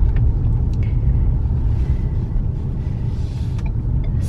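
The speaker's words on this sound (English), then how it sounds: "this is Emerson's first car ride" Steady low road rumble inside a moving car carrying a newborn on her first ride home, the engine and tire drone continuous and fairly loud, with a few faint clicks and rattles near the end.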